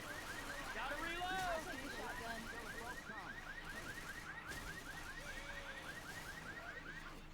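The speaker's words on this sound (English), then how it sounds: "Setting off the car alarm, getting it out of the way." A car alarm in the video game Left 4 Dead 2 wails in rapid repeating electronic chirps and warbles, running continuously under gunfire, game noise and a man's brief spoken remark.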